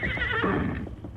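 A powerful white stallion, uneasy and prancing, lets out a loud nervous whinny with a wavering, shaky pitch, close by and with no voices.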